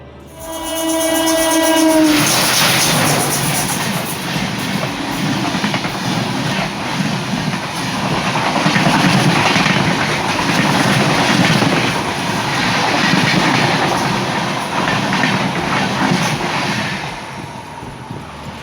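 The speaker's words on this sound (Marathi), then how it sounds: "आपल्याला ट्रेन वीस सेकंदामध्ये गेलेली आपल्याला पाहायला मिळालीच" A train horn blares briefly, then a train on the Konkan Railway near Ratnagiri rumbles past loudly and steadily for many seconds with clattering wheels, fading slightly at the end.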